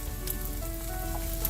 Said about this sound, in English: Start scrambling the egg.